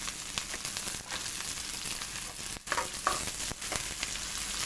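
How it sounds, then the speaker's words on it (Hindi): Onions, garlic, ginger and green chillies fry in a pan for a dhaba-style masala bhindi, a soft continuous sizzle with occasional stirring scrapes and crackles, close and fairly quiet. "बस इसको हमने फ्राई करना है अच्छे तरीके से, ताकि प्याज जो है इसका कच्चापन ख़त्म हो जाए।"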